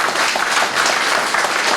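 Wedding guests in a Moscow cafe break into steady, dense applause, a close, continuous wash of many hands clapping together with no voices standing out.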